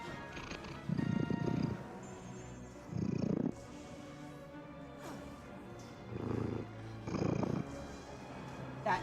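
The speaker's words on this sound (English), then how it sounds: "That is a purr." A cat purring in the Final Fantasy XIV game, heard as low rumbling bursts that come and go in four pulses over several seconds, moderately loud against a quiet background.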